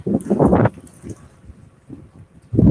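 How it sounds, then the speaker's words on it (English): Gusty wind buffets the microphone in low rumbling bursts, strongest at the start and end, with quieter blustery stretches between. "A little windy."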